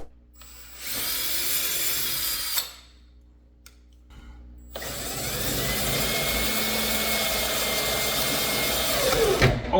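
A power drill reams out a previously drilled hole in a Monte Carlo lowrider's body, whining in a short burst, stopping briefly, then grinding steadily and loudly for several seconds before spinning down.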